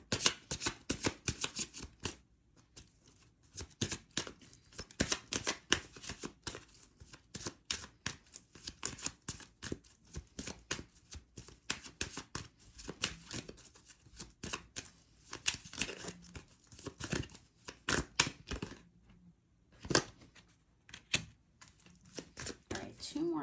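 A deck of tarot cards being shuffled and pulled, making a dense, rapid run of papery riffles and clicks that continues nearly nonstop, with brief pauses and a voice talking quietly in the background.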